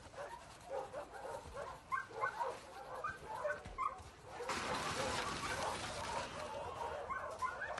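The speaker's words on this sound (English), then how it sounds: "Hey, you crazy dog." A dog in the video game The Last of Us Part II gives excited yips, short barks and whimpers in quick bursts, then breaks into louder continuous panting and whining close by.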